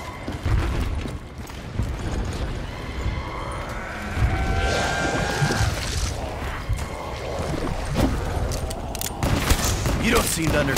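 Rapid gunfire in Call of Duty Black Ops III zombies mode, dense repeated shots close and loud, mixed with game effects and voices talking over the action.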